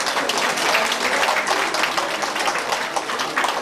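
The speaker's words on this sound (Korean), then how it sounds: "박수 부탁드리겠습니다" A reception crowd at an international arts festival applauds a visiting performer from Japan with dense, sustained clapping that stays close and even from start to finish.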